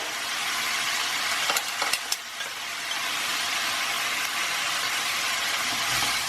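A spice blend is tipped into a sizzling pan of cauliflower and pepper, bringing a brief burst of clatter and stirring over a loud, steady frying hiss.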